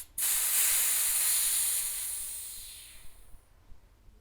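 A sharp, loud hiss of air bursts from a 2015/2016 36 mountain bike suspension fork as its pressure is released, holding steady and then slowly fading away over about three seconds.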